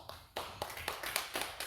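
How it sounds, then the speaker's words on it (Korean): A church congregation at a dawn prayer service claps hands together in a burst of sharp, rhythmic claps, loud and fairly close, with no talking over it. "박수 한번 칩니다"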